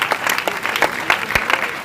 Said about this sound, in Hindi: ताली बजा के जोरदार प्रभु को धन्यवाद दीजिए